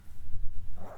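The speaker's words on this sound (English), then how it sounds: "Oh, that's a dog." A dog in the Minecraft video game gives a short, soft bark or yip, a single brief sound over quiet game background.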